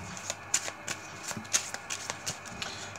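Cards being shuffled close up, a series of quick riffling bursts and soft snaps at an irregular rhythm.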